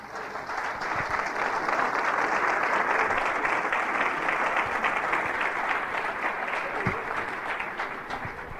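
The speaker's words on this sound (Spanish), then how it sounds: "Le damos un aplauso a mí para que despierte." Sustained audience applause at a church sermon, steady and dense clapping from a sizeable crowd holding at an even level for the whole stretch, with no talk over it.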